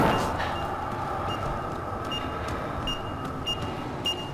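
Repeated short electronic beeps in the video game Mass Effect: Andromeda, spaced irregularly and fairly faint over a steady rumbling ambient background.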